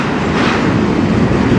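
CN freight train rolling past close by at night, a loud continuous roar of wheels and rail cars with faint clacking.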